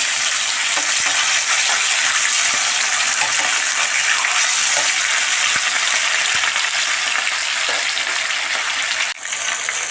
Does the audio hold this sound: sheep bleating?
no